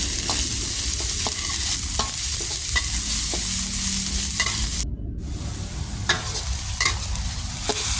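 Pounded spice paste stir-fried in a pan for pork basil stir-fry, a loud continuous sizzle with repeated scraping stirs and spatula clicks, close up, with a brief dropout midway.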